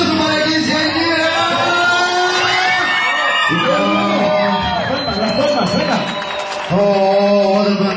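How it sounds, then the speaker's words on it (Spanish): A party crowd at a quinceañera whoops, yells and cheers, loud and close under a steady musical backdrop, while an announcer's amplified voice speaks over it. "Un aplauso para la quinceañera."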